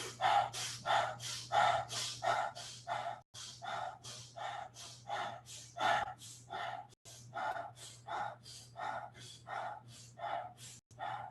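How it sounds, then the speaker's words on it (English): Quick, shallow breaths in and out in a steady rapid rhythm during a guided breathing exercise, around two per second, close and clear over a low constant hum, with a few brief pauses and no speech. "Now let's go even faster and smaller breaths."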